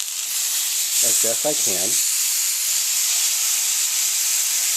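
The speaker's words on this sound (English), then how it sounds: "I'm going to sear the sides" A sirloin steak sears on its sides in a hot iron pan, giving a steady, loud, continuous sizzle and hiss throughout, with a brief spoken remark over it.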